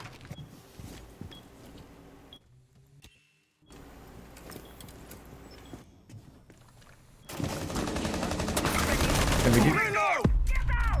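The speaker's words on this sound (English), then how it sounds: "And we do get some gunfire going on." Gunfire from a Rainbow Six Siege match, heard as bursts of shots that grow loud and dense in the second half after quieter ambient game noise, with a brief gap near the start.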